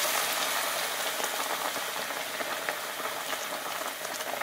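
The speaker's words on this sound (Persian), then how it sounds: "خب در اینجا آب جوش رو به خورشتمون اضافه میکنیم" Water being added to a pot of okra stew gives a steady, close hiss of bubbling and sizzling liquid that stays even throughout, with no one speaking.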